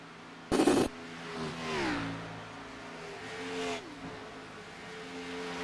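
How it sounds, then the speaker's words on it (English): IndyCar engines starting and revving in a racing video game at Charlotte Motor Speedway: a sharp burst as an engine fires, then rising and falling whining revs in a couple of swells, moderately loud. "Dark Horse IndyCar drivers, start your engine"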